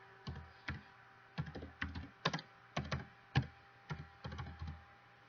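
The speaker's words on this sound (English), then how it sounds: "I'm gonna type fitness logbook." Typing on a computer keyboard, quick bursts of close, crisp key clicks in uneven clusters with short pauses, alone in a quiet room.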